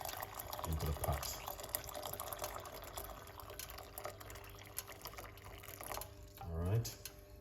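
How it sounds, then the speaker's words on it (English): Hot water is poured into a pot in a kitchen, giving a soft, steady liquid fill sound under a person talking, with a couple of brief splashing swells near the start and end. "We're gonna put 1 cup of hot water"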